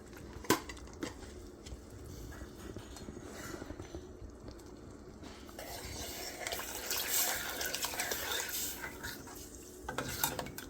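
Water poured into a pot of South Indian tomato rasam amid stirring and clinks of a utensil, with a steady splashing rush in the second half that is close and moderately loud.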